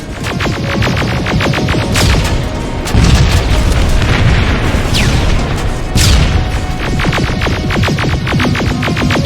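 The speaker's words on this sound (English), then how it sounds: "Rockets! They're heading this way!" Rocket explosions boom in the Terminator Resistance video game's future-war final battle, heavy repeated blasts with deep rumbling throbs and a droning hum, loud and dense, with no talking.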